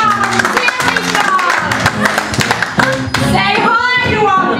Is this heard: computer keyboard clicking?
no